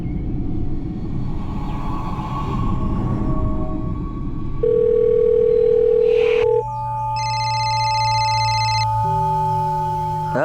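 Phone call tones on a line where the dialled number is not reachable: a steady tone, then a sequence of flat electronic beeps and tones, with low rumble in the background at first.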